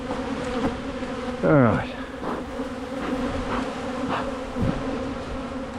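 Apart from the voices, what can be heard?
honey bees buzzing around a beekeeper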